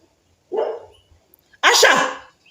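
A dog gives two sharp barks close by: a shorter one, a brief pause, then a louder, longer bark.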